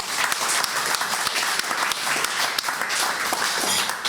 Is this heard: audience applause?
yes